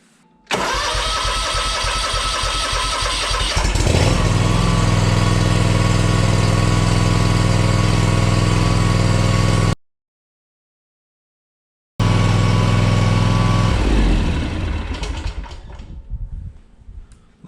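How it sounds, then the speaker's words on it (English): A Kawasaki FR651V engine on a Ferris 400s mower cranks briefly, catches and settles into a loud, steady idle, then winds down and stops near the end. "We'll start it up now."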